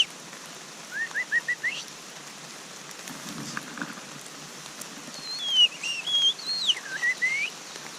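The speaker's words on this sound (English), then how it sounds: "Oh, there's that car alarm bird." A bird on a forested Hawaii trail gives a series of thin rising and falling whistled calls resembling a car alarm, with a short burst early on and a longer, louder run near the end, set against steady rain-like background hiss.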